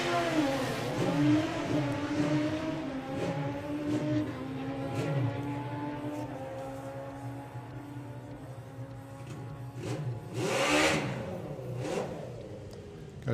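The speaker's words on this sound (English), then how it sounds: "So Carl Thomas on his 950 bike." A 950 drag racing motorcycle at the STP Sportsman Nationals roars through a sustained run, its harmonic engine note shifting in pitch with a loud burst near the end, amid general track noise.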